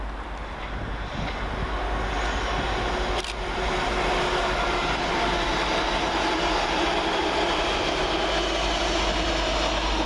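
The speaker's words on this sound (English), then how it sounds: "Flying through the middle for LUMO is 803-001, working 1 Sierra 95 from London King's Cross to Edinburgh Waverley." A LUMO Class 803 electric train runs fast through the middle road at Peterborough station, a broad steady rushing roar that stays loud and even throughout, with a brief sharp click early on.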